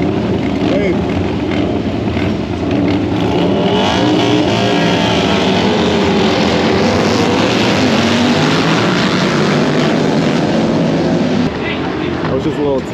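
Bagger motorcycles roar around a test lap at a King of the Baggers race, a loud, continuous wall of engine noise with rising and falling revs close by and voices mixed in.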